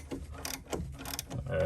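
Ratchet wrench turning the nut on a car's sway bar link during replacement, a steady run of rapid metallic clicks close up, growing slightly louder toward the end, no speech.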